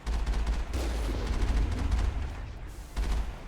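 Artillery fire in the video game Mass Effect: continuous loud bursts of heavy gunfire and booming blasts rolling through the whole stretch, dense and close with a brief lull near the end before another barrage.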